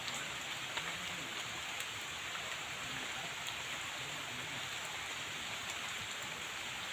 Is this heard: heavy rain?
yes